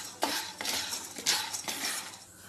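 Chana dal dry-roasting in a pan for homemade sambar powder, with a spoon scraping and clinking against the metal in several distinct strokes, close and fairly quiet, without any voices.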